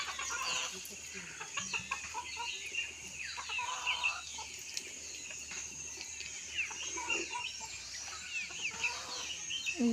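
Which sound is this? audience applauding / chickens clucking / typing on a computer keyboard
chickens clucking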